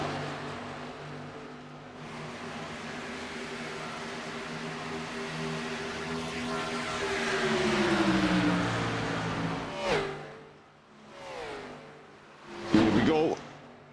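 Racing car engines from a NASCAR racing video game drone steadily with harmonic tones that rise and then fall, followed by several quick passes that swell and fade, with commentary talking over them.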